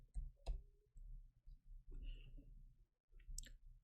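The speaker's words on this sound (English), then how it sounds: "You're going to hear me clicking on my computer here" A few sharp computer mouse clicks, quiet and close, spaced out over a low background hum.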